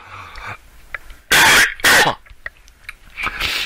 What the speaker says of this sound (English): hopefully you guys could live through all the coughs